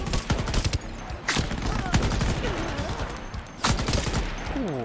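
Gunfire in the competitive shooter Shatterline, loud repeated burst-fire volleys and single shots crackling close up, with a game voice heard faintly in between.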